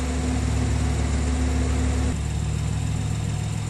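A BMW i8's 1.5-litre engine runs steadily at idle, charging the battery, with a constant droning hum, its tone shifting slightly partway through, with no voices.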